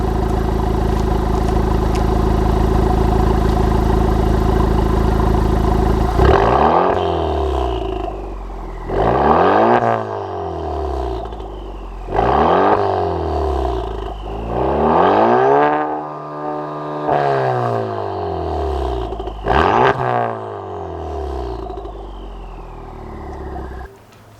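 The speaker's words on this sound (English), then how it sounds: "I'm going to go ahead and open it all the way up and get the final sound clip" A Honda Civic Type R with a Remus exhaust and its baffles fully open idles steadily and loudly, then gets five sharp revs that climb and fall back between pauses, with no talking.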